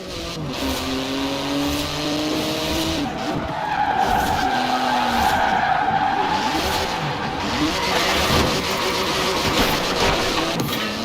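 A 3.8-litre twin-turbo flat-six sports car of about 700 horsepower races in Forza Horizon 4, its engine revving up and down with gear changes while the tyres squeal and skid through corners, loud and close.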